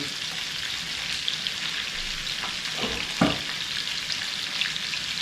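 Bacon crackles and sizzles steadily in a pan, close by, with a few sharper pops and a brief clatter midway; no one speaks.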